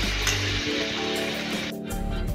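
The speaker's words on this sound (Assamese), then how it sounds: "এতিয়া মই এইখিনি তেলত এটা এটাকৈ ফ্ৰাই কৰিম" Pieces of egg fry in hot oil in a kadai, giving a steady close sizzle with a low rumble under it. A brief clink and a shift in the hiss come near the end.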